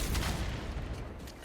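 A muffled explosion in The Last of Us Part II, a dense, rumbling burst of low noise that fills the short moment and then thins out, heard up close with no talking over it.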